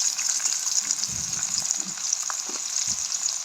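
Chopped onions fry in hot oil for a dried fish curry, giving a bright, steady sizzle with a few soft clunks from stirring, heard close and continuous with no one talking.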